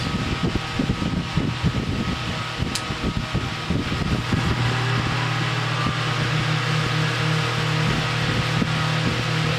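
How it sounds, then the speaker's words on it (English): A 2-pole electric fan motor spins up from a start, its hum settling into a steady, high-speed tonal drone with rushing air, fairly close and continuous throughout. "it's only a 2-pole motor. Start it up again with this."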